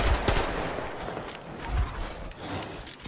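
Rapid bursts of gunfire in the post-apocalyptic shooter game Metro Exodus, with loud repeated shots in close succession and no talking.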